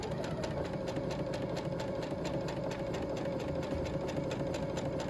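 A sewing machine stitches along the folded edge of fabric for a wrap, running as a steady, fast mechanical whir with rapid needle ticks, close and continuous with no talking.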